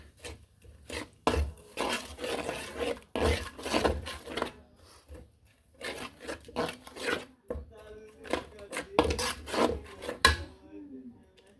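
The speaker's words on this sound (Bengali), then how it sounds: "এই যে মশলাগুলো একটু কষিয়ে নিচ্ছি এখন" Ground spices and green chili paste being sautéed in a pan with cinnamon about to go in, giving a near, rhythmic scraping and rubbing of a spatula stirring, with a voice speaking faintly now and then.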